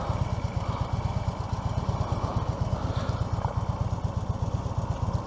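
A Harley-Davidson Road King motorcycle engine runs at low speed during slow riding practice, its steady, loud, throbbing pulse continuous and close throughout.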